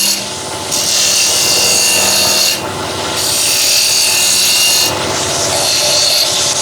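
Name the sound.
ball gouge truing a piece of wood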